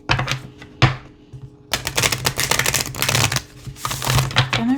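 A deck of Work Your Light oracle cards is shuffled up close, with crisp riffling, flapping bursts and a short pause between shuffles.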